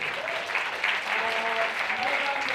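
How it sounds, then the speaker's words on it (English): Conference audience at No Time To Wait 9 applauding a speaker, moderate continuous clapping with faint voices blended in. "Another round of applause for the"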